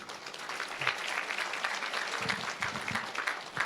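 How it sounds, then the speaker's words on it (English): An audience at a charity fundraiser gives a steady, full round of clapping, dense and sustained, heard close without talk over it. "Massive round of applause for him."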